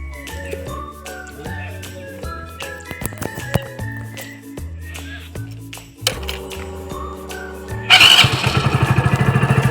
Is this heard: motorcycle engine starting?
yes